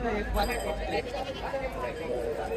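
A goat bleats repeatedly nearby at a goat market in Chalisgaon while people talk over it, the wavering calls mixing with steady voices.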